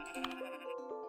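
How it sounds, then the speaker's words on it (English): Sheep bleating in the farming game Equilinox, a single wavering, close bleat lasting about a second, clear and alone. "There's hungry sheep over here."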